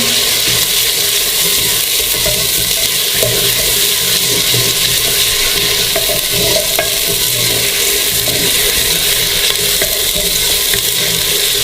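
Masala with chopped green chillies and tomato frying in a handi for tinda sabzi, a loud, dense and continuous sizzle holding steady throughout, with faint stirring and no talk.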